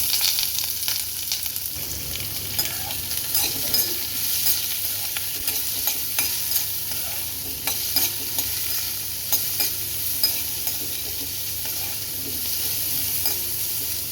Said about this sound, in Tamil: இது எல்லாத்தையும் நல்லா ஃப்ரை பண்ணிக்கலாம் வெங்காயம் ஒரு நிமிஷம் ஃப்ரை பண்ணிவிட்டு